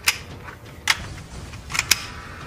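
A KWA FPG airsoft pistol, a Magpul-licensed folding pocket gun, gives sharp clicky snaps, about four quick separate cracks spread over a couple of seconds, close and crisp against a quiet room.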